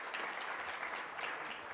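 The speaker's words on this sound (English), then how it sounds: "Another round of applause." Conference audience applauding a speaker at a live event, a dense continuous wash of clapping heard from a moderate distance, fairly faint and steady.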